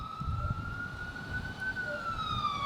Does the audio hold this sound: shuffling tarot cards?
no